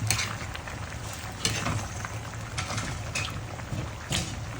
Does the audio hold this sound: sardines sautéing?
yes